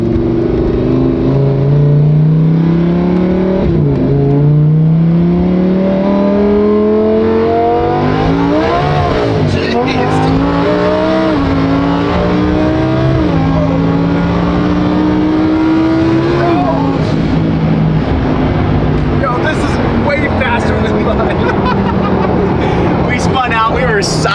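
A twin turbo Lamborghini engine drones and revs through gear changes, rising and falling in pitch while driving, loud from inside the cabin with people talking over it.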